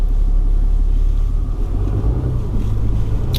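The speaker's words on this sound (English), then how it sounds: "It's a lot of exhaust brake." A RAM HD pickup truck's exhaust brake produces a loud, deep, steady rumble heard from inside the cab, with a low drone that shifts in pitch partway through.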